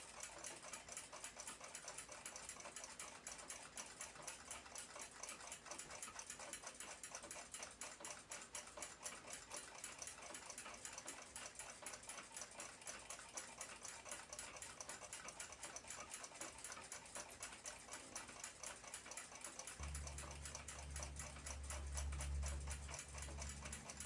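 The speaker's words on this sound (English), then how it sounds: "Cut, shaped, and polished on the lathe." Small lathe turning, shaping and polishing blued steel pivot wire for an Austrian Zriny clock, a steady fast mechanical whir with rapid regular ticking texture throughout, with a deeper hum joining near the end.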